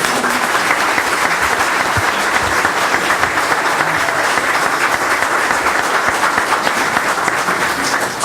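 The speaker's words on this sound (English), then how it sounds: "I'd like to give them a round of applause for their support" Loud, sustained applause from an audience at a city meeting, clapping for the mayor and council's support of the police department; dense, continuous clapping throughout.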